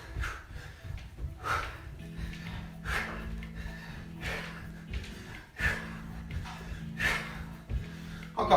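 Heavy, rhythmic breathing follows an upper-body home workout, with loud puffing exhales recurring roughly every second over a low music beat.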